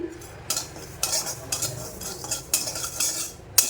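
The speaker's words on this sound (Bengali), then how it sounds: "সুজিটা একটু ভেজে নেব হালকা করে" Semolina lightly dry-frying in a pan while a metal spoon scrapes and taps against it in a regular rhythm of roughly one stroke every half second, close up and with no voices.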